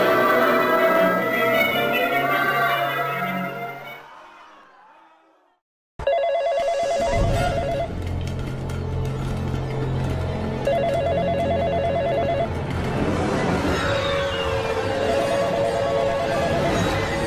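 A telephone rings in a haunted house attraction built around a horror-movie theme, with repeated ring bursts over loud, busy background music and effects after a brief drop to silence.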